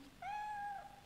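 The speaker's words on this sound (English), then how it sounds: "It's a little cat!" A small cat meows once in the video game Fatal Frame III, a clear, drawn-out tonal mew that rises and holds before trailing off, close and alone over a faint background hum.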